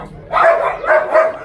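Dogs barking at a dog farm, with several loud close yapping barks in quick succession, some with a whiny edge, rising out of a quieter background.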